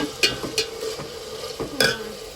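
Spices and tomato crackle in hot oil for tempering, several sharp spluttering pops over a steady low sizzle, fairly close.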